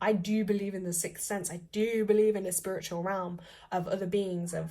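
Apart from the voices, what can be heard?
No distinct noise like a dog, phone or traffic.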